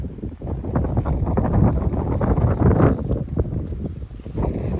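Wind blowing hard on the microphone at a seaside spot in Sual, Pangasinan, a steady loud broadband rush that rises and falls across the whole stretch, with no clear talk over it.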